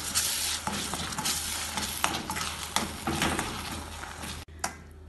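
Ground masala, onion and turmeric powder stir and sauté in a pan, a steady sizzle broken by repeated scraping strokes of a spoon, close and moderately loud, ending in a brief clatter.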